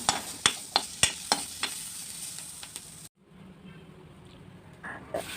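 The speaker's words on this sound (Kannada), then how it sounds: "ಈ ಥರ ಫ್ರೈ ಮಾಡ್ಕೋಬೇಕು" Vegetables fry in a pan for a bitter gourd saaru, a soft continuous sizzle punctuated by a string of sharp spatula clacks against the pan, then a quieter stretch of low crackling after a brief gap.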